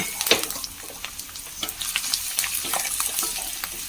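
Chopped onion sizzles and crackles in a hot pan, with scattered pops and stirring scrapes over a steady frying hiss, close and moderately quiet.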